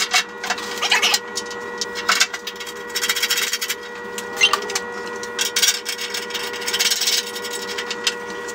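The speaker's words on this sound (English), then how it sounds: "let's get that new cutting edge bolted on and see how it's going to work" Hand tools work a new cutting edge being bolted onto equipment in a metal repair shop, with steady scraping and rubbing, scattered metallic clicks and a constant electrical hum throughout.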